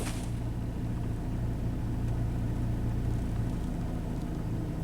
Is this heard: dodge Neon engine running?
yes